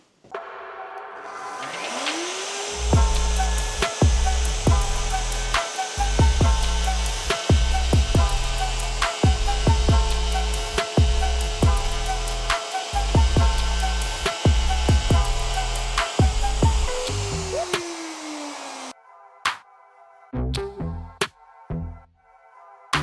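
A router cutting into a laminate kitchen worktop, a loud, sustained high motor whine with rhythmic thuds and scraping as the bit passes through, spinning down near the end, followed by a few scattered knocks.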